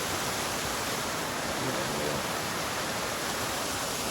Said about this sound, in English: So this is like a 25-foot waterfall